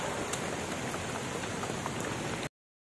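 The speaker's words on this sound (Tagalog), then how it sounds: "talagang nabot na tayo ng medyo malakas-lakas na ulan" Heavy, steady rain pours down during a storm in the Philippine countryside, a dense, constant wash of drops beating on surfaces, close and loud for about two and a half seconds before cutting off abruptly.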